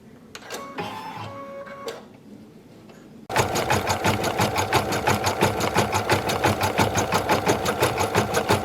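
A Stellaire XJ2 Plus sewing machine couches embroidery, starting with a few brief clicks and whirs, then running loud and close in a fast, even rhythmic chatter until the end.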